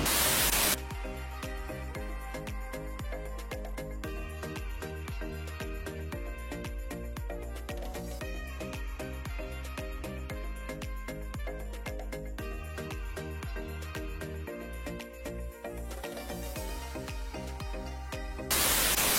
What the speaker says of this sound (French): Il y a énormément de bruit, c'est parce que les gens ils sont en train de laver leur véhicule.